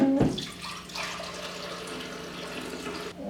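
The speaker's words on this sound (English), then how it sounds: "So first I'm just gonna fill this with water." Tap water pours steadily into a coffee maker reservoir, a continuous close rushing stream that starts after a brief knock and cuts off near the end.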